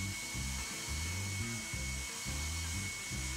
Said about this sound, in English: and dry it with a hair dryer.